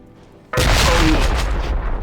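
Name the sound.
grenade explosion in video game RealRTCW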